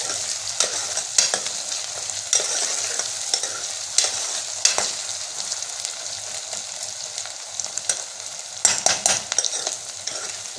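Ridge gourd (tori) sizzles steadily in a pan while a spoon stirs it, with scraping clicks and scrapes scattered through the constant frying hiss.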